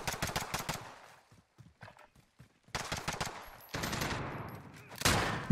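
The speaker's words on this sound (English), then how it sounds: "I'm not shooting this guy. I'm going to shoot the freak." Gunfire in Call of Duty Modern Warfare: quick bursts of automatic shots, a near-silent pause, then more bursts and a loud final crack, close and punchy.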